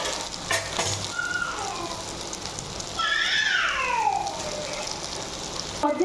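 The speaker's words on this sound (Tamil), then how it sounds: "இப்போ எண்ணெயில் ஊற்றி பொரிச்சு எடுத்துங்க." Bottle gourd pieces fry in hot oil with a steady close sizzle and crackle, flaring louder partway through as the pieces settle and bubble, with no voices over it.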